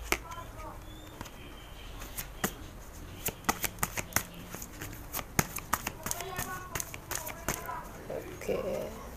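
Tarot cards shuffled by hand in quick bursts of crisp riffling and taps, close and intermittent, with someone speaking quietly at times.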